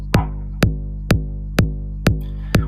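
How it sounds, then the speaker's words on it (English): A plain four-to-the-floor kick drum pattern, six evenly spaced punchy electronic kicks with booming low sustain, loud and alone with no other instruments. "So just your standard 4 to the floor, 1, 2, 3, 4, just hit."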